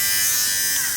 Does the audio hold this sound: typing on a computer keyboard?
no